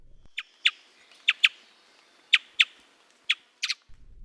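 A small bird sings a few sharp, high chirps in scattered bursts, fairly close, with near silence between notes.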